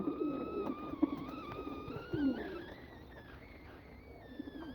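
Caged pigeons coo softly in low, rolling bursts, a steady murmur of doves with a few faint higher bird calls and background bustle, no clear voices over it.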